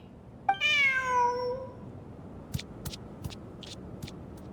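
A cat meows once in a video game, a clear, drawn-out tonal call that fades, followed by a few soft, brief clicks in an otherwise quiet scene.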